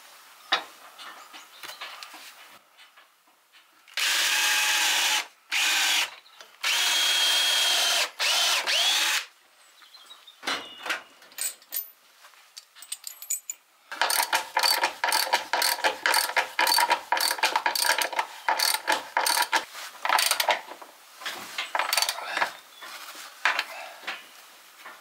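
A power drill drives fixings into old roof timber during cottage roof repairs, with several loud bursts of whirring and ratcheting separated by pauses, then a longer run of stuttering drilling, heard close with no talk.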